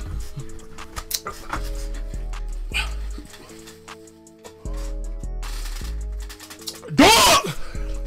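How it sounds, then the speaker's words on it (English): A dog barks and yips in several sharp bursts, the loudest near the end, over a pulsing electronic beat with a voice briefly present. "Dog!"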